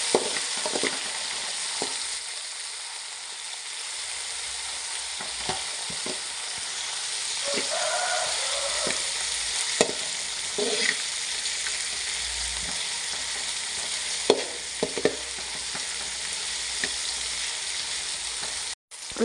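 Tomato, ginger, garlic and green chili cook in a pan for Mangalore palav, a soft, steady sizzle running throughout with occasional stirring clinks and scrapes, no voices.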